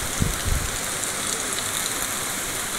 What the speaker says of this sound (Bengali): বৃষ্টি পড়ছে আর মেঘটা তো পুরো কালো হয়ে আছে